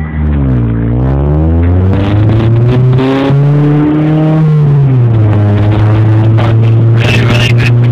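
A 2001 Honda Prelude with a race exhaust drones loudly while driving, its engine note rising and falling through gear changes, with someone talking over it throughout.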